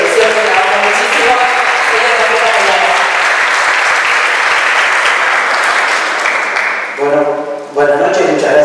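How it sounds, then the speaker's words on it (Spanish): Audience applause for a production director rings out steadily, dense and full. Near the end it thins as a voice begins speaking over the last claps. "fuerte aplauso para tu director de producción"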